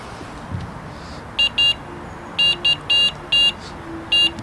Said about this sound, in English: First time I've had a run on my green bite alarm as well, so I now know they both work.